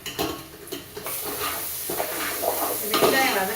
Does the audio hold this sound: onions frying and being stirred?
yes